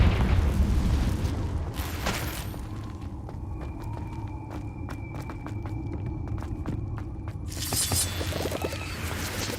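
Confringo blasting spell from the video game Hogwarts Legacy, heard as a booming burst followed by steady rumbling and sharp crackling pops, loud and continuous throughout.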